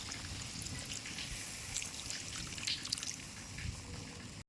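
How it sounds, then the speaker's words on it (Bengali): A small splash of water poured into a simmering Bengali egg curry gives a continuous close trickle and fizz that runs steadily for a few seconds. "এর উপর দিয়ে সামান্য একটু জল দিয়ে দিচ্ছি আমি"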